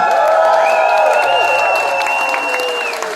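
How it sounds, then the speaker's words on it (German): An audience at a charity kids' festival in Gommersheim claps and cheers in a dense, loud, continuous wash that tapers slightly at the end, with whistles or held tones running through it. "Dicker Applaus von euch."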